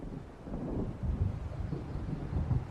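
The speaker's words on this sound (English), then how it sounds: "It seems there's a storm coming." Low, rolling thunder from an approaching storm in the Xbox 360 game Alan Wake, a steady distant rumble blended with wind-like noise and no voices.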